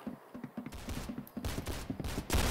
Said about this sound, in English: Hey, this is a shotgun.